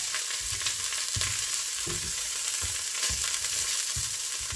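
Garlic cooks in a pot for a stew, with a steady sizzle and repeated soft scraping thuds as it is stirred, close and fairly even throughout.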